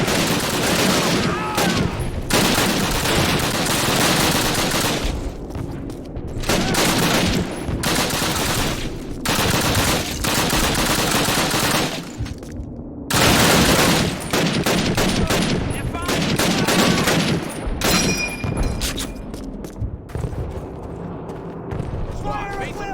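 Dense game gunfire from the Call of Duty PC American campaign, with a near-continuous volley of rifle and machine-gun shots over 23 seconds, some brief lulls, and soldiers shouting orders over it.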